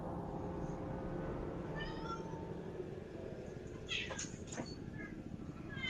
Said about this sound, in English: You guys hear my cat?